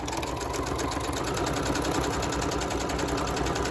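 A sewing machine runs a straight stitch for a holiday craft tag, a steady, loud, close mechanical whir with a rapid even needle rhythm and no pauses, no talking.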